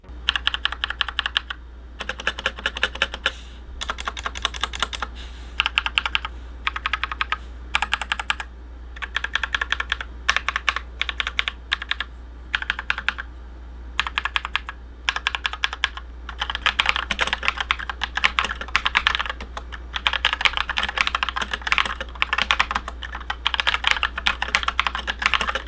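Continuous typing on a budget Aukey mechanical keyboard with red linear switches, a steady stream of close, crisp key clacks in bursts and runs with brief pauses, over a low constant hum and with no talking.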